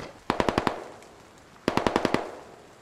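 Two rapid bursts of grenade launcher fire in the video game SquadOps, each five or six sharp, evenly spaced shots, loud and close, with a short gap between the volleys and no talk.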